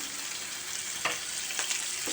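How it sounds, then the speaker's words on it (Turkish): Steady, bright sizzle of peppers frying in hot oil, with a few soft stirring scrapes breaking through the crackle. "Bir miktar da sıvı yağ koydum kavuruyorum."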